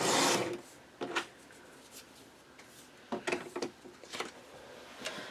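Paper being cut down for a mini album with a trimmer, producing scattered soft slicing and rasping strokes, quiet and close with no speech.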